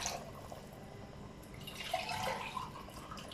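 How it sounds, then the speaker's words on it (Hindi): Water from a glass is poured into simmering chicken biryani gravy, making a soft, steady splashing and trickling that swells briefly, faint and close. "अब हम इसमें पानी ऐड करेंगे।"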